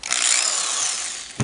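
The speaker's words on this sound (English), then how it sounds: "So I just mounted it in a little drill here" The motor armature of a Singer Model 221 Featherweight sewing machine, mounted in a small electric drill, spins with a steady, loud, high whine that holds constant, then ends with a brief clunk near the finish.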